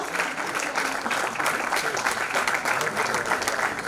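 Sustained applause from an audience at a certificate award ceremony for nursing and paramedical institutes, steady and dense clapping that holds evenly throughout.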